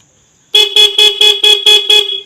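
A dual horn fitted to an old Hero Splendor motorcycle blares in pattern mode, seven loud rapid beeps in a regular pulsing rhythm after a short silence, close and alone.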